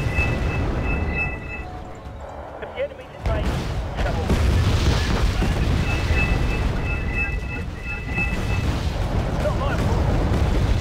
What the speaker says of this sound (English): Fire! Artillery!